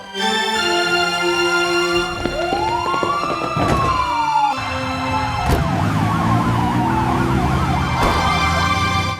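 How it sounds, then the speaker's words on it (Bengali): A loud, close police patrol vehicle siren wails, its pitch sweeping up and down over steady engine hum, with a few sharp knocks along the way. "সাইরেন বাজাও, টহল গাড়ি বের করো"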